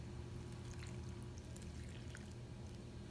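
Milk pours in a steady continuous stream into pancake mix for pancake muffins, a soft, even liquid gush that runs for about three seconds at low level with no voices.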